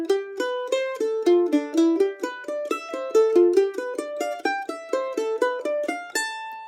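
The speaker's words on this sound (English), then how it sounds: "you end up with a really nice diatonic 7th arpeggio pattern" Plucked mandolin notes run up and down a diatonic seventh arpeggio pattern in an even, quick rhythm, each note bright and ringing, played solo and up close.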